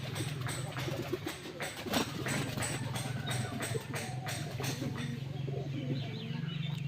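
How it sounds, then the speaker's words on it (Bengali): Pigeons bathe in fresh water on a sunny winter morning, with soft cooing, fluttering and splashing over a steady low hum, the bird sounds close and continuous. "দেখেন কবুতরগুলো কিভাবে গোসল করে।"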